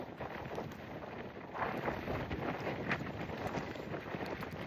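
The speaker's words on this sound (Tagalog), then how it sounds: "Pero malakas na hangin dito guys" Steady strong wind buffets the microphone with a constant low roar at Gaomei Wetlands in Taichung, Taiwan, no voices, a faint gust swelling midway.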